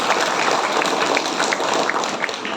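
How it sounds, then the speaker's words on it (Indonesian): Audience applause at an Islamic community gathering in Kuala Lumpur, Malaysia: a dense, steady wash of clapping from many hands, moderately loud and continuous throughout. "Boleh tepuk tangan untuk beliau."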